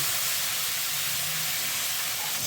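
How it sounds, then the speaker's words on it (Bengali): Fish frying in hot mustard oil in a wok makes a loud, dense, continuous sizzling hiss that fills the whole stretch without a break. "কড়াইতে পরিমাণ মতো সর্ষের তেল দিয়ে দেবো তেলটা গরম হয়ে এসে কিছুটা একটু নেড়ে চেড়ে নিয়ে সমস্ত মাছগুলো ওই তেলের মধ্যে দিয়ে দেবো"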